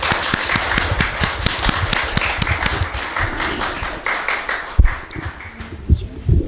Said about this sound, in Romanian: vă propun să încheiem această discuție cu aplauze pentru cei care au făcut-o atât de consistent